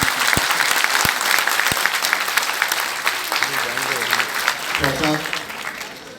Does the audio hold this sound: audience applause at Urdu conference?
yes